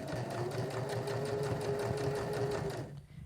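A sewing machine runs steadily for close to three seconds as it stitches a fabric glasses case, a fast even whirr with rhythmic needle clatter that stops near the end.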